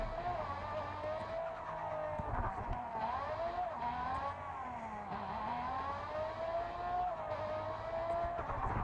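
A Mustang in a racing video game revs and howls with rising and falling engine pitch, and tires squeal through repeated skids. The sound stays loud and continuous, with no speech.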